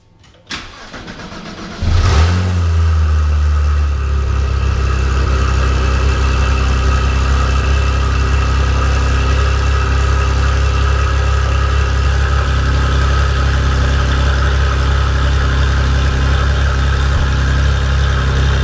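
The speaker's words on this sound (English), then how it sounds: "let's go ahead and get right into it and fire it right up" A Porsche GT3 engine cranks briefly and fires up, then settles into a steady, loud, rumbling idle that holds for the rest of the clip, close to the car with no talking.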